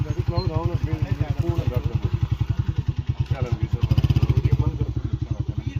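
Several motorcycles arrive at a wedding in Dadyal, Azad Kashmir, their engines chugging in a steady, loud throb that swells toward the end, with people talking over them.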